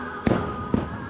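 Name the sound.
fireworks exploding at Disney World's Magic Kingdom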